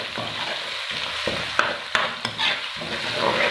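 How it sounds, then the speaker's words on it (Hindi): Ginger garlic paste fries in hot oil with browning onions for white lobia masala, giving a steady loud sizzle close by. A utensil scrapes and stirs the pan several times, producing sharp clicks, with no talking. "अब हम इसमें डालेंगे अदरक लहसुन का पेस्ट।"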